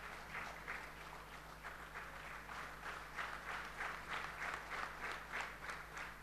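A church congregation at a Sunday service claps together in a steady, rhythmic beat, heard faint and distant for several seconds without talk.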